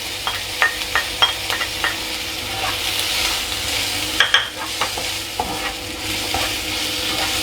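Onion and garlic sautéing in a pan for papaya tinola, a steady close sizzle broken by clinks and scrapes of stirring, some clustered, with no talk.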